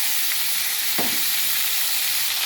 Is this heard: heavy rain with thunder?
no